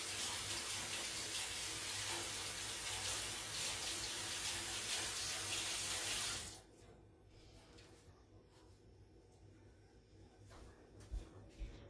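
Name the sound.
tap water running while washing hands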